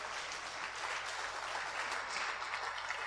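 A church congregation applauding together in worship, a steady, dense wash of many hands clapping at once in a reverberant hall, sustained without pause and with no distinct voices.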